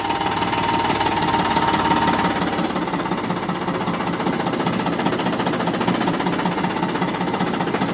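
Steady rumbling diesel engine of a Farmtrac 45 tractor idling nearby, a continuous throbbing chug with a faint mechanical whine, no talking.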